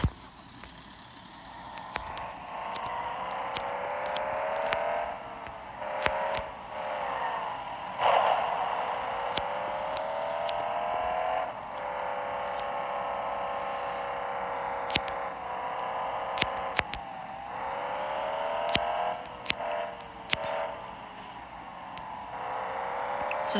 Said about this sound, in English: let's hop back in my truck